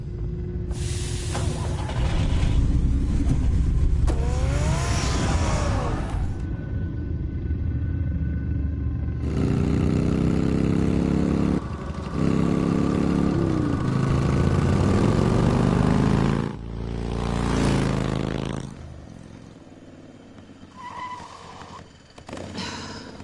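The Batmobile's engine in the Telltale Batman video game rumbles and roars in long sustained bursts, swelling and dropping with pauses between, loud and close.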